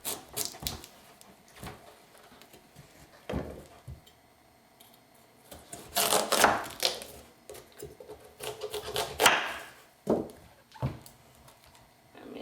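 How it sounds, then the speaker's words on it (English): Knife cutting the ends off a squash and slicing it in half, raw food prep for a green iguana; a scattering of sharp ticks and woody knocks, with denser bursts of cutting near the middle and toward the end. "Cut both ends off and then slice it in half."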